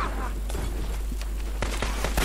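Shotgun fire in the video game CrimeCraft: a few loud, sharp blasts in quick succession over a dense, noisy game background.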